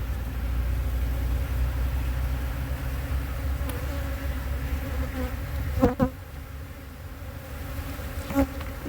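A steady, dense buzzing of many honey bees at a hive in Canada fills the scene, continuous and close, with a few faint clicks and knocks partway through.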